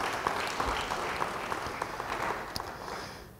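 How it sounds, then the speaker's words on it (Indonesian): A congregation applauding during a church sermon: a soft, steady patter of many hands, fairly distant and fading toward the end, with no talking over it. "Yang percaya beri tepuk tangan bagi dia"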